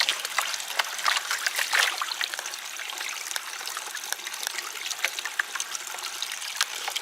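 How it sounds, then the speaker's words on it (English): Water sloshes and trickles as material is washed in a gold pan at an old North Carolina gold mine, a close, steady stream of small splashes and dribbles with no talking. "I'm going to use the side of my pan this time, just to wash some more of that light stuff off."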